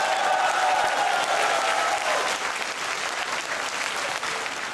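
A dinner-hall audience at a political speech event breaks into loud, dense applause, many hands clapping together in a sustained wash that eases slightly toward the end.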